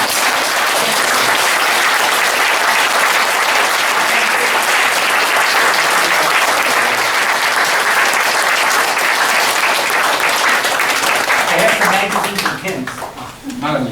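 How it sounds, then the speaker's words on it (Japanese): Sustained applause from a lecture audience, dense and steady for about eleven seconds before thinning out near the end, with a voice beginning to speak as the clapping fades. "後大きな拍手で"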